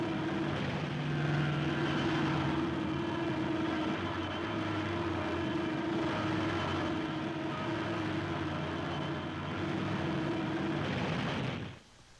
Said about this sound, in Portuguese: Um de nossos caças derruba o jato após uma rápida perseguição.